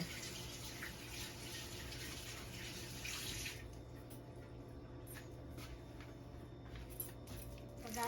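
Fresh sardines frying in a hot pan give off a steady, dense sizzle that is loud at first and then settles into a quieter crackle, with a few soft pops.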